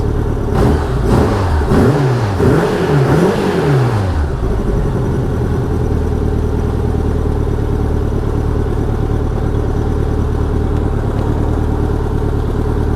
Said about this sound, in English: Get this thing idling nice.